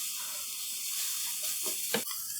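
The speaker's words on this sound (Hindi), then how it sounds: "अब हम 3 से 4 मिनट अच्छे तरीके से मसाले को भून लेंगे" Spices fry in a pan for stuffed bitter gourd, a steady hissing sizzle with a few soft stirring scrapes and one sharper knock near the end, close and without speech.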